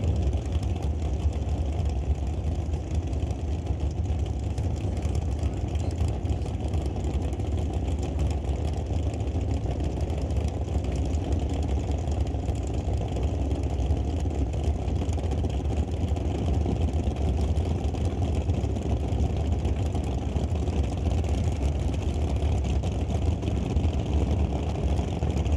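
1967 Chevelle and 1967 Nova drag race cars idling at an NHRA event, a steady, distant, low engine rumble that holds unchanged throughout.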